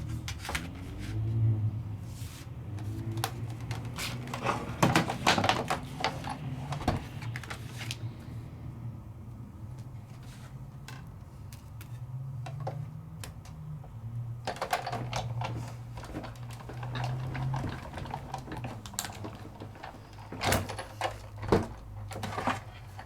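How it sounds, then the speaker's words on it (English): A Sizzix die-cutting machine runs paper and a die through its rollers, a steady low mechanical rumble with repeated clicks and clunks across the whole stretch, fairly close and heard alone without talk. "And then I die cut my pretty one."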